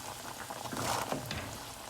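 Dumplings fry in hot oil, a faint, steady bubbling sizzle with light crackles and pops heard close up, with no voices.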